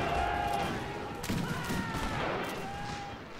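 A rifle volley rings out in a video game battle set during the Mahdist Rebellion at Gaza, a dense crackle of overlapping shots over sustained battlefield noise, with a spoken voice faintly mixed in.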